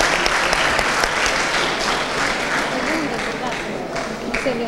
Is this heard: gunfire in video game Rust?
no